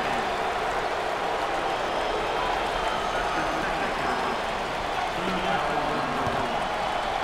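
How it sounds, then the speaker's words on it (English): A packed NCAA tournament basketball arena crowd roars steadily in a broad, continuous wash of noise at a Sweet 16 game between Florida and Texas Tech, with a voice speaking over it throughout. "This crowd is unbelievable tonight"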